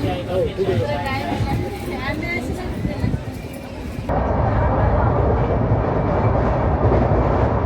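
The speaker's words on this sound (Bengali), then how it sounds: "আমাদের ট্রেনটা এরপরে ছেড়ে দিয়েছে স্টেশন থেকে।" A passenger train that has just pulled out of a station on the way to Kolkata rumbles along with a continuous clatter, loud and close, with people talking over it in the first half.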